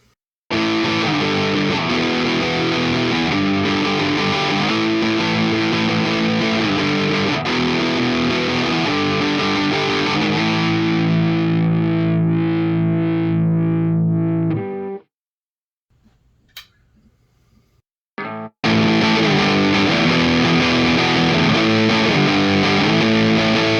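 Heavy distorted electric guitar, a Les Paul-style, riffing loudly with effects, ringing out into a sudden stop and near silence, then the riff crashes back in.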